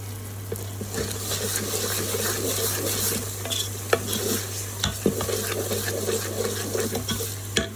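A spoon stirs garlic powder and ginger powder with a splash of hot kettle water for a prawn curry, giving steady close scraping and swishing with small clinks over a constant low hum.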